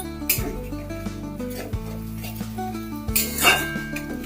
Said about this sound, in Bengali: এবার আমি এটা ঢাকা দিয়ে দেবো।